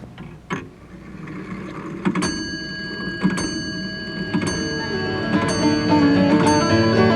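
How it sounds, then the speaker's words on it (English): A grandfather clock ticks in a quiet room, with sharp clicks at a slow, regular pace over a faint sustained hum that gradually swells. "The tick of Grandfather's clock seemed louder when there were no engines or train whistles or jet roars to drown it out."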